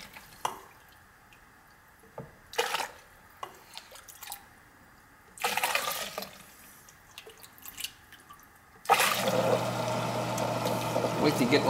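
Condensate water is pumped out of a 90-plus gas furnace that had frozen and leaked onto the floor, with intermittent sloshing and dripping bursts that give way to a steady rushing pump flow, voices talking nearby.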